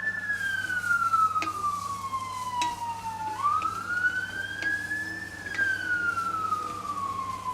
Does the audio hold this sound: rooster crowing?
no